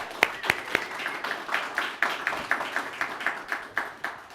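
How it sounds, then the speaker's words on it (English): A small audience gives a round of applause, with clear, evenly spaced claps standing out over softer scattered clapping, steady throughout with no talking. "let's give her a round of applause"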